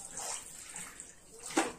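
Water runs and splashes into a bathroom tub in short uneven bursts, close by and fairly quiet, with a sharper splash near the end and no talking.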